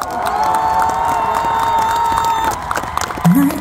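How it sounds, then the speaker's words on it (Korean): A concert crowd at a Ganghwa October outdoor-style concert cheers and claps steadily, with a sustained whooping tone riding over the noise before a voice cuts in briefly near the end. "박수가 약한가 봐요, 여러분. 박수!"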